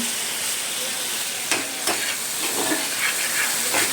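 Cumin and green chili paste fry in a pan with a steady close sizzle, broken by several short bursts of stirring and scraping partway through, and no speech.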